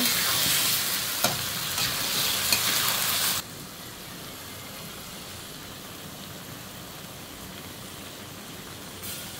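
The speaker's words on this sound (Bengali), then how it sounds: "মাংসটা ভালো করে তেলে ভেজে নিব।" Chicken meat frying in oil in a pan, sizzling loudly with stirring for the first few seconds, then dropping to a much softer, steady sizzle for the rest.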